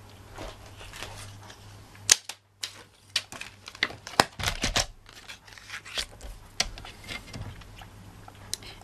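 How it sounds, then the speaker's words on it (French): Scissors cutting card for a handmade flap card: a string of crisp snips and crunches at an irregular rhythm, close up and fairly quiet, with a brief silent gap early on. "Je vais couper ce côté-là droit."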